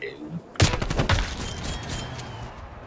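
Rapid burst of nail gun fire in Call of Duty Cold War multiplayer, a sudden loud volley of sharp shots that then trails into a softer wash of game noise and ambience.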